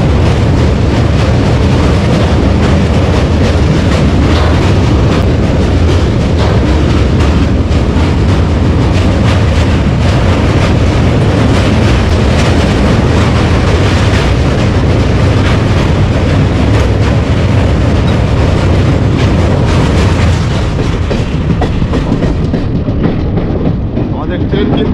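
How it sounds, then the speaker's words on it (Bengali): The Teesta Torsa Express crossing the Ganga river bridge near Naihati, a loud continuous rumble of rolling wheels and clattering carriages at speed, steady from start to finish. "ট্রেন কিন্তু সুন্দরভাবে গঙ্গা রিভার ক্রস করলো"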